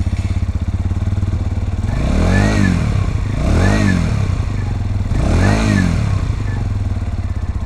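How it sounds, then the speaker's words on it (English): A cold Lexmoto Detroit motorcycle engine fires up and settles into a loud, close idle, with three slow swelling surges in the throbbing exhaust note. "start the bike off and you can hear what it sounds like"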